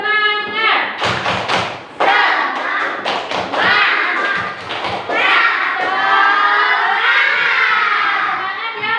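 Schoolchildren in a classroom perform a rhythmic spirit clap together, sharp group claps and thumps in a patterned beat mixed with children's chanting and shouting voices, loud and close.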